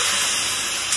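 Water poured into a hot pan of stir-fried chayote and carrots for pansit bihon bursts into a loud, steady steaming hiss that fills the moment, with no talk.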